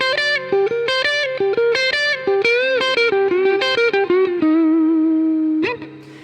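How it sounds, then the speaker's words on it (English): Electric guitar solo lick played through a wah pedal with distortion: quick, bent and sliding notes with sweeping wah tone, ending on a held note and a final short stab, loud and alone. "Now the second half of the idea with the wah pedal sounds like this."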